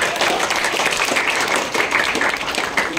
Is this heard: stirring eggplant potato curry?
no